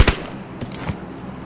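A short burst of sharp blasts in the game PUBG Mobile, with a loud crack at the start and a few softer booms after.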